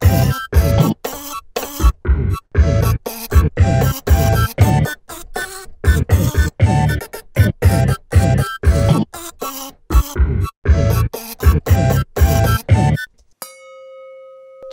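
A toothbrush recording is chopped into a rapid rhythmic run of short scratchy bursts, one after another, and ends with a brief ringing tone. It is heard alone, with no talking.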